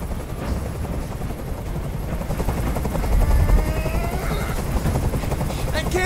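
A helicopter hovers in the video game Detroit: Become Human, its rotor throbbing loudly and steadily close overhead, with speech and faint game effects mixed in.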